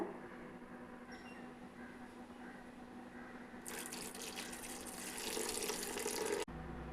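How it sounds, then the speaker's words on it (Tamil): Strained tamarind water pours steadily into a bowl for a few seconds, growing louder and splashy, then abruptly stops. "இதை நல்லா வடிகட்டி எடுத்துகிட்டு அந்த தண்ணியை மட்டும் சேர்க்கலாங்க."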